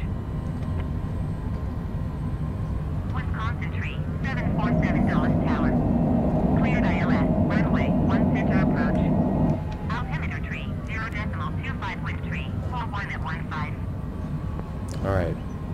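An airplane lands at Washington Dulles in busy skies, a steady engine and airframe rumble that swells louder midway and then eases, with people talking over it throughout.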